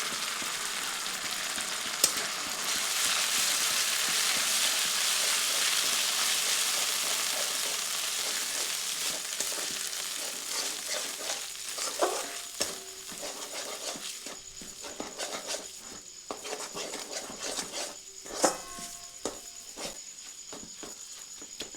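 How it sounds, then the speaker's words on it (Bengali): A paste of cashew, melon seeds and ground poppy seeds fries in a pan, a loud broad sizzle at first that thins into softer crackling with scattered stirring taps and scrapes. "দিয়ে এটিকেও কিছুক্ষণ ভেজে নিচ্ছি।"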